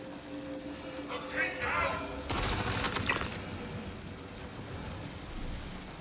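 Gunfire in Star Citizen, a short dense burst of rapid shots in the middle amid a steady game ambience, with a faint hum before and after.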